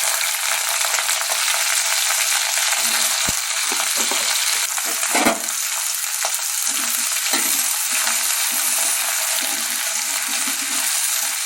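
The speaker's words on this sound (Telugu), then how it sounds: "ఇప్పుడు వంకాయ ముక్కలు వేసుకుంటున్నాను." Eggplant pieces fry in hot oil in a pan with a constant bright sizzle, broken by a couple of sharp clinks of a utensil against the pan.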